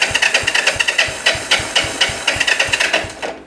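A Yamaha SR250 motorcycle engine turns over on the starter without firing, giving a fast, even chugging of compression strokes. It is close and steady for about three seconds, then cuts off, with no speech.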